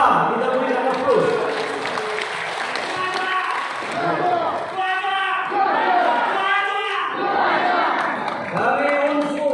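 An audience at an official board inauguration in Medan claps for announced officials, a steady wash of applause and crowd murmur running beneath a loud announcer's voice over a public address system.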